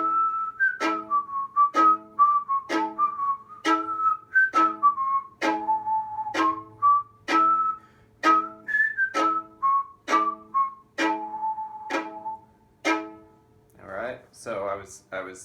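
A person whistles the tune Train 45, a clear bright melody of short rhythmic notes over a quiet string-band backup strumming, ending with a few louder strums.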